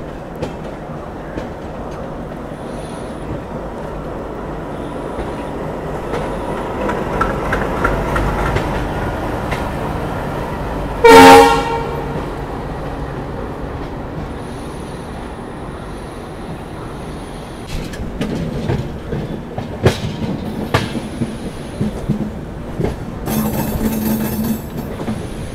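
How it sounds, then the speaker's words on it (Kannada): Udyan Express passenger train travelling from Bengaluru toward Mumbai, heard from on board as a steady rumble with rhythmic clickety-clack, a loud brief screech midway and rising wheel noise later. "train number 11302 Udyan express KSR ಬೆಂಗಳೂರಿಂದ CSMTಗೆ ಹೋಗುವ ಟ್ರೈನು"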